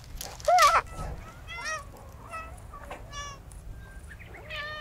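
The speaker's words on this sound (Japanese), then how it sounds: "猫ちゃん集まってきたぞな" Several cats on a cat island gather at a feeding spot and meow repeatedly from different distances, a string of overlapping mews and cries, one loud near call early on, over soft outdoor ambience.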